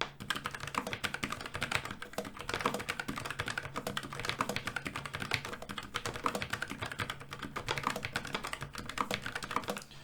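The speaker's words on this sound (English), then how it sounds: "let's hear the sound of the Keycaps brown switches" Steady, fast typing on a Logitech MX Mechanical Mini keyboard with low-profile brown switches, a continuous close run of soft, muted keystroke clicks lasting the whole stretch.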